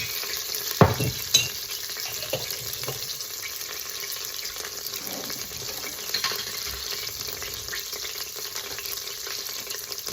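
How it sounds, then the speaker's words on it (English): Roasted garlic sautés in roasted garlic oil with a soft, steady sizzle and a few sharp utensil clicks and scrapes from stirring in a pan, quiet and without talk. "put in some roasted garlic oil, roasted garlic. Saute those for a little while"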